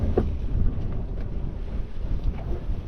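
A sailboat's engine idles underway near the Isle of Wight, a steady low rumble mixed with wind buffeting the microphone and water noise, continuous and fairly loud throughout.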